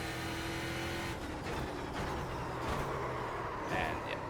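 In a racing video game, a Euro NASCAR car brakes hard and downshifts at the Red Bull Ring, its engine a steady loud drone that drops and shifts in pitch as the car slows.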